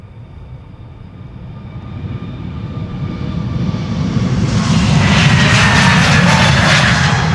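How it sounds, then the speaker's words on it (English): A JetBlue Airbus A321neo departing Schiphol Airport for Boston roars as its engines spool up, a steady rumble growing into a loud, broad jet roar. "over here also a departure takes place. The A321neo JetBlue to Boston"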